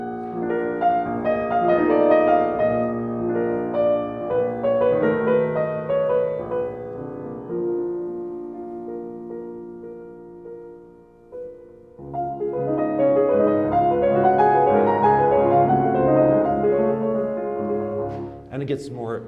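A solo piano plays a passage of Chopin's Nocturne Op. 15 No. 2 at the doppio movimento transition, with rich sustained chords and agitated figures, swelling, easing to a quieter dip, then building again.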